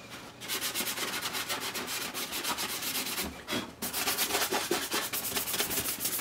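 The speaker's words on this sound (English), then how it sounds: "I'll just keep sanding on it, and it will come out." Steady, rapid back-and-forth sanding strokes rasp against a plastic Star Wars Sandtrooper helmet up close, continuous and rhythmic with one brief pause.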